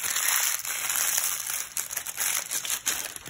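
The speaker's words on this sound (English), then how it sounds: "Just crumple it up." Parchment paper crumpled by hand for baking, a dense, continuous crinkling and crackling close up, steady for a few seconds with brief louder crunches.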